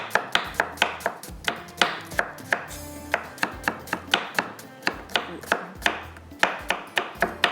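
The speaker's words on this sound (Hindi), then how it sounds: "बिल्कुल स्लाइस में बारीक बारीक कट लेंगे।" A knife slices onions finely on a cutting board for a spiced eggplant curry, with quick, crisp chops repeating in a steady rhythm, close up, and no voices.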